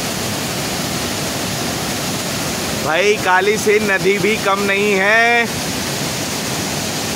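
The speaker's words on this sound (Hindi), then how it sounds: "मैं आपको दिखा देता हूँ ये चंबल नदी का चूलिया जलप्रपात" Steady rushing roar of water pouring over the Chuliya waterfall on the Chambal river, a constant broadband wash throughout, with someone speaking briefly over it in the middle.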